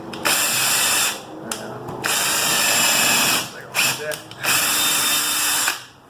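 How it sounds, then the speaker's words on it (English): A Ryobi 18V cordless drill bores a small starter hole for a large lag bolt, whining loudly in several bursts of about one to two seconds, with brief stops between them. "I'm going to drill a little starter hole because I'm lazy."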